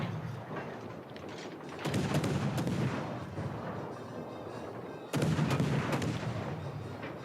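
Naval gunfire from a battleship in the video game World of Warships: Legends, with heavy cannon booms landing in two strong bursts over a steady, rumbling battle din.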